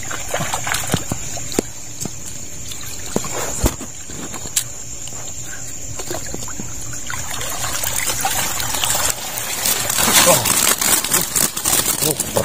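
A strong river current rushes during a flash flood, a constant churning wash of water with splashes and trickles, heard near and loud with people talking over it.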